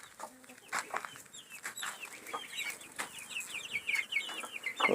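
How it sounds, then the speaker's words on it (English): Hens and a couple of roosters cluck busily in a backyard coop, with overlapping short calls coming close and continuous and no voices over them. "These are all my hens. I have a couple roosters in here."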